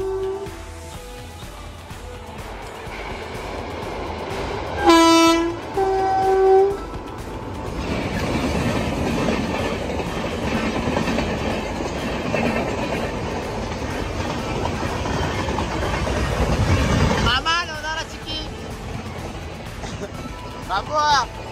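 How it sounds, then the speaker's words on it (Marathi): A passenger train arrives and rolls past close by, a horn blast followed by a long, loud rumble and rhythmic clatter of wheels on rails that builds and then drops away, with people talking and calling out over it. "गाईस ट्रेन आली ट्रेन"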